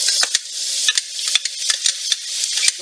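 Butter melting into bacon in a pot sizzles steadily and close, with brief scrapes of stirring breaking through the hiss; no one speaks.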